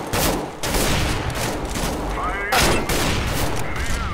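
Sustained gunfire in Counter-Strike: Global Offensive, loud and close, with overlapping rifle shots and muffled impacts running through the whole stretch while players chatter over it.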